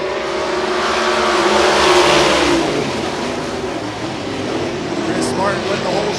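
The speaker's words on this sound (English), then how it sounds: "Who's ready to go sprint car racing tonight?" Sprint cars roar off at the start of a dirt-track heat race at Benton County Speedway, a dense wall of loud engine noise swelling and holding steady throughout, close and continuous.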